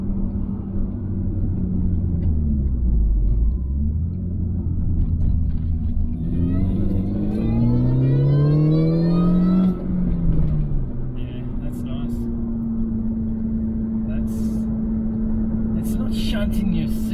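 A Mini Cooper S with a 15% pulley upgrade accelerates hard from inside the cabin, its engine note climbing in rising sweeps through the gears, with a deep rumble throughout and a steady drone as it cruises afterward; people talk over it.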